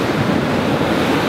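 Surf rolls and breaks steadily on Malibu beach, a continuous close wash of seawater roaring across the shore, with wind buffeting the microphone throughout and no voices.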